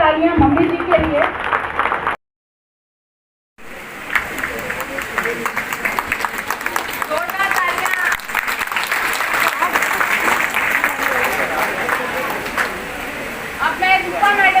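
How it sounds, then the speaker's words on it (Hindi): Audience applause at a women's day event, a sustained wash of clapping with a short silent break, then continuing loudly with voices talking over it. "एक बार जोरदार तालियां मम्मी जी के लिए।"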